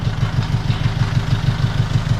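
A motor engine idles close by with a fast, even low-pitched pulsing chug, loud and steady with no talk over it.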